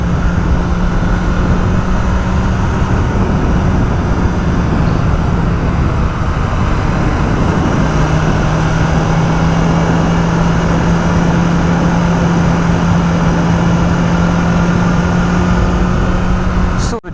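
BMW M1000R motorcycle cruising on a road while its new tyres are scrubbed in, a steady loud engine drone with heavy wind roar, constant throughout with a slight tonal shift midway.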